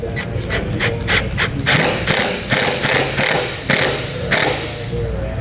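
An old screw is threaded back into the rail of a Solera RV awning to hold replacement fabric, giving close, fairly loud ratcheting clicks in quick, uneven bursts over about five seconds, with no voices.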